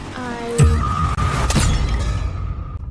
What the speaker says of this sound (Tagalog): nabasag ang itlog mo